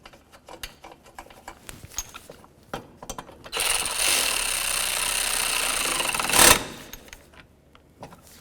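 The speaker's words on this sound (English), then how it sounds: "We're going to put in this little screw." A small screw is driven into a bumper bracket on a 2009–2016 Mercedes-Benz E350: scattered light clicks and handling noises lead into a steady mechanical whir of about three seconds, ending with a sharp louder burst.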